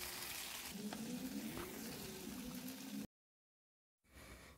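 Red chillies sauté in oil in a pan for a spicy chutney, giving a steady soft sizzle for about three seconds before a brief silence and a quieter return of frying.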